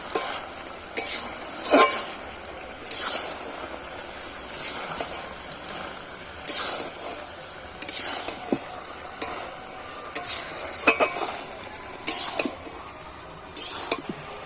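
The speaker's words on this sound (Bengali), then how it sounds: "সবজির সাথে মসুর ডালটাকেও ভেজে নেব।" Masoor dal frying with winter vegetables in a pan for khichuri, a soft background sizzle broken by about a dozen brisk spatula stirs and scrapes at irregular intervals.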